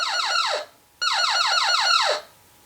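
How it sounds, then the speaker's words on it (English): A Gobots Renegade Thruster toy playset runs on batteries and sounds an electronic alarm. Two loud bursts of repeated falling warbling tones play, a short one and then a longer one, with a brief gap between them. "as he passes, his shadow sets off that alarm."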